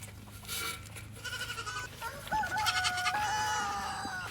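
Several goats on a goat farm bleat repeatedly at close range, overlapping cries rising and falling over faint background noise.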